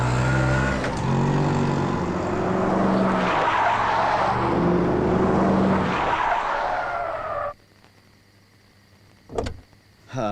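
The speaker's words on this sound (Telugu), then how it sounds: "ఏయ్ ఆటో" An auto rickshaw pulls up in a Telugu film comedy scene: a loud engine roar with braking or skidding tyres rises for several seconds, then cuts off abruptly into near silence, followed by a brief thump.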